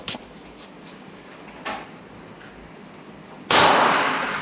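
A Sig Sauer P320 pistol fires Bullet Master ammunition: one loud, sharp, close blast near the end with a ringing decay, after a couple of fainter knocks.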